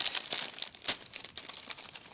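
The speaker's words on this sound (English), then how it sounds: "you're hearing a lot of rustling" Sheets of 6x6 craft paper rustle and crinkle close by in quick, uneven bursts of crisp crackling, with no talk over them.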